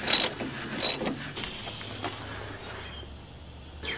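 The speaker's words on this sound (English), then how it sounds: "Now just tighten all the bolts and you're done." A ratchet wrench tightens bolts on a Chrysler Sebring's rear strut mount plate, giving short metallic clicking bursts and mechanical rattles at close range with no talking.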